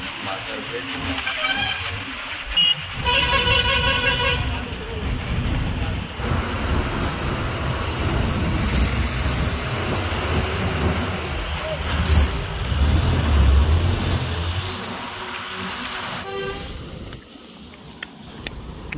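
MSRTC ST bus on the Konkan to Mumbai road, its engine and road rumble running steadily and loud throughout, with brief beeping and a hiss near the start and end.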